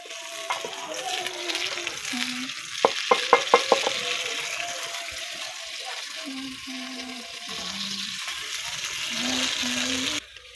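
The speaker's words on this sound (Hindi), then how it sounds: "अब हम रखते हैं ऊपर देचकी, जो कि हमने उसमें प्याज काट के डाला हुआ है" Chopped onions frying in a pot over a village fire, with a steady sizzle throughout, a brief burst of clinks or taps from the pot partway through, and some talk over it.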